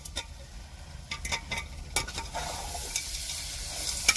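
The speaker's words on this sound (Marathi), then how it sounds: "आता सगळा मसाला एकदम झकास मध्ये परतून घेऊ" Masala and peas stir-fried in a pan, a close sizzle with quick spatula scrapes and taps early on, settling into a steadier frying hiss.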